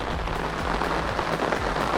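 Heavy autumn rain pours down during a carp-fishing trip, a dense, even hiss of drops striking nearby surfaces with scattered patters and no voices.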